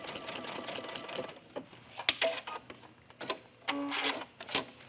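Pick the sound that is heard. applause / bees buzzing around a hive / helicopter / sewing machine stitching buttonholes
sewing machine stitching buttonholes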